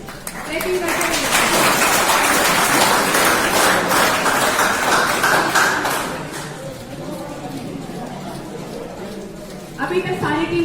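Loud applause at a school quiz competition for World Water Day, a dense burst of clapping for about five seconds that then fades into quieter room noise as someone talks.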